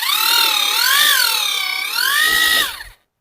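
A ProCraft PMM 20 cordless paint mixer runs loud and close with a high whining motor tone whose pitch wavers up and down, then cuts off abruptly into silence.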